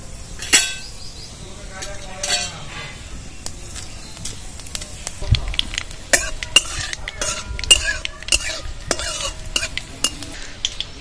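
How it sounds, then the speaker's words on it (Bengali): Black cumin and a dried chilli temper in mustard oil, with a light sizzle and spatter under frequent metal clinks and scrapes of stirring, close and intermittent. "সামান্য একটু তেল দিয়ে দেবো সর্ষে তেল ফোড়নে কালো জিরে আর একটা শুকনো লঙ্কা দিয়ে দেবো"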